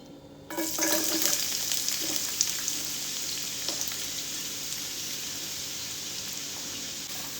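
Chopped onion, three green chilies and six garlic cloves for a spicy noodle dish hit hot oil in a pan, starting a loud, steady sizzle that continues throughout, with light stirring scrapes.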